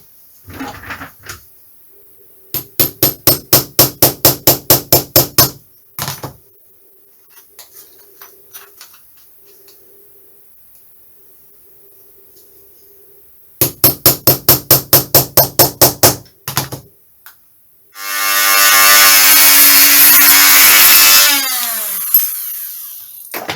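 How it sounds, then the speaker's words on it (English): Hammer blows on a metal punch marking drill holes on a 1/6th scale Tiger Moth model build: two bursts of rapid, evenly spaced taps, close and loud, separated by quiet, followed by a short loud whirring power-tool burst. "I think what I might do is just put a little punch where they have to be drilled to stop it wandering."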